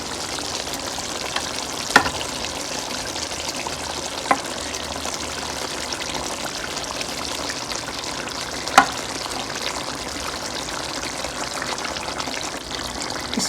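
Eggs cook in a meatball curry masala, giving a steady, close, even sizzle broken by a few sharp clinks around the pan, with no talking.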